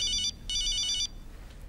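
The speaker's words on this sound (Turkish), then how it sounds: "Kimin telefonu o?" A mobile phone ringtone goes off in a home, two loud bursts of a bright electronic tone with a short gap between them, heard alone with no talking.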